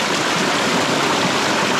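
A loud waterfall roars close by in a steady, dense rush of falling water that fills the whole moment with no break or pause.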